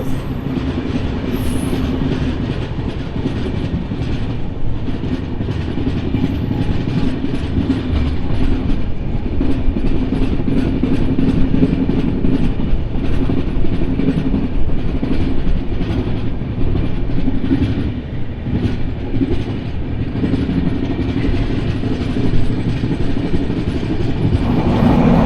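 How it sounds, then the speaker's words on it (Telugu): A Rajahmundry–Vijayawada MEMU train passing alongside, a steady loud rumble and clatter of wheels on rails with faint squealing, continuous for the whole stretch. "Rajahmundry Vijayawada memo train."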